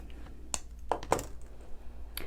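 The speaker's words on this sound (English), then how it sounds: "Now I'm going to come in with my cutter tool and trim that off." A cutter tool snips jewelry wire while a wrapped loop eye pin is being finished, giving a few small, sharp metallic clicks spaced across a quiet background.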